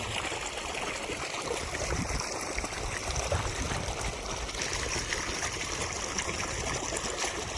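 A steady, continuous rush of water flows through an irrigation channel in a cumin field, trickling and babbling close by, with no voices.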